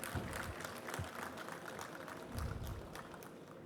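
A conference audience gives a round of applause welcoming a guest on the dais, moderately faint clapping with low rumbling thumps underneath.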